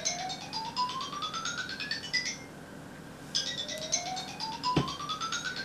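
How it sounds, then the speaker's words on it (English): An unfamiliar mobile phone ringtone plays indoors, a quiet electronic tune built from rising sweeping tones that repeats twice with a short gap between rounds, alone with no voices. "Excuse my phone, please. That's an unfamiliar ringtone,"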